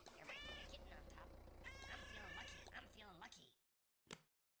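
Cartoonish kitten meows from the Exploding Kittens video game sound over a steady low electronic hum, a run of overlapping mews for a few seconds before a short final meow.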